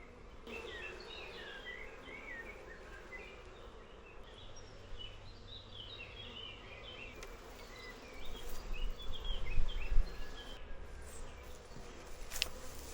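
Honeybees buzzing around a hive, many faint overlapping buzzes and whirs near and far, with a louder close rumble and rustle partway through and no talking.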